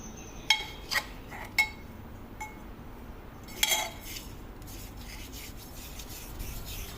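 Turmeric powder, two spoons, stirred into a homemade natural Holi colour mix, giving a few light scraping clinks of a spoon against a bowl followed by soft rubbing, close and quiet with no talk.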